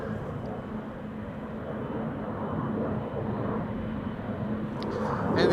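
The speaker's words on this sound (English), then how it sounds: "And this is KLM flight 713 to Paramaribo in Suriname. It's a 777-300 the PHBVS" A KLM Boeing 777-300 departing Amsterdam Schiphol, a low, steady jet rumble at a distance that swells slightly toward the end.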